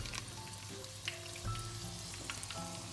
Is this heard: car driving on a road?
no